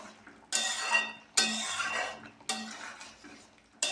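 Boiled potatoes and ridge gourd tipped out of a pot in three separate splashy pours, each a sudden wet rush that fades, with light metallic knocks between.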